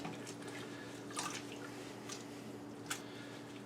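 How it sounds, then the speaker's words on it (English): Excess water drips and squishes from a squeezed motorbike air filter, faint close wet patters and a few sharper drops over a quiet steady background hum. "Just going to squeeze out some of the excess water."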